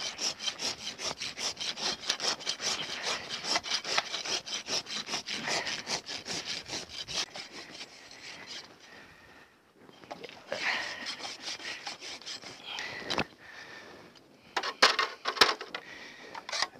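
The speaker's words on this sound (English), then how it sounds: "I'm going to get rid of this pulled toe here. Just kind of rasp it off." A rasp files down the pulled toe of a horse's hoof during a rebalance trim, giving rhythmic scraping strokes, steady and close at first, then pausing and resuming in irregular bursts.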